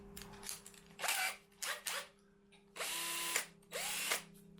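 Drill fitted with a mixing paddle stirring casting resin, whirring in several short bursts of varying length, a couple of longer steady runs near the end, close and moderately loud over a constant low hum.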